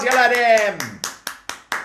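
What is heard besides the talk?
children clapping, a round of applause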